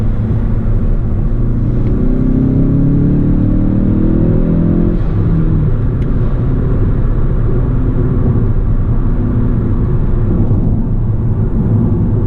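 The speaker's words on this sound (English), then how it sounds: "Let me shut up for a second so you can hear the car." A car driving on a highway, merging onto the road, with a loud continuous engine and road rumble that rises in pitch during acceleration early on, then holds steady and close throughout, no voices.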